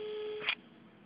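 Steady electronic tone from a Gigaset S440 phone handset with backlit yellowish keys, a sustained beep held for about half a second before a brief burst of noise cuts it off, then faint background hiss.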